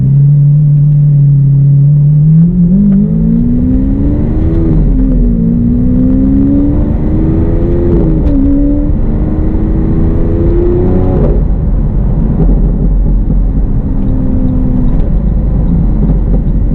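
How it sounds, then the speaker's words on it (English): A Lamborghini Aventador V12 with a race exhaust revs and climbs steadily in pitch, a continuous throaty roar with brief crackling pops as it shifts, heard up close. "Pops and crackles you get from that race exhaust are honestly breathtaking."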